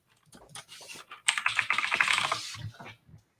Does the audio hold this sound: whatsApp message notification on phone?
no